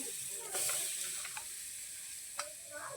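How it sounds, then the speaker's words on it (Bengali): Oil and turmeric sizzling in a hot wok, a soft, fairly quiet hiss with a few light stirring scrapes and a small clink near the end. "তেল দেবো একটু, কড়ার মধ্যে একটু হলুদ দিয়ে দেবো"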